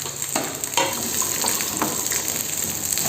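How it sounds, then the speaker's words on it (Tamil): Onions and garlic sauté in a spoonful of oil for a South Indian fish curry, giving a continuous close sizzle with small crackles and pops throughout. "வெங்காயம் நல்லா வதங்கிடுச்சு."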